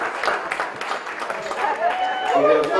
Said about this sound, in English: let's give Team Arden's a round of applause